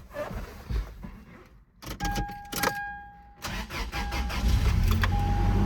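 A Toyota Tacoma's 2.7L 3RZ four-cylinder cranks with a whirring starter, catches, and settles into a steady, close idle, joined by a brief electric whine along the way.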